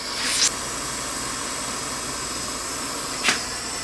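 A torch roars steadily as it heats the crook of a 1917 H N White King baritone saxophone to sweat in solder, a constant close hiss with two brief flares.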